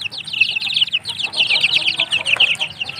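Month-old free-range village chickens chirp and cluck continuously at a farm, a busy overlapping chorus of high peeping calls close by.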